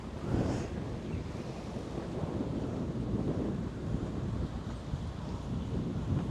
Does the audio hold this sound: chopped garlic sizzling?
no